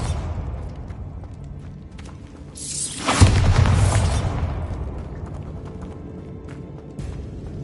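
A single Bombarda explosion spell in Hogwarts Legacy bursts with a sudden loud blast about midway, then rumbles and fades over a couple of seconds amid quieter background sounds.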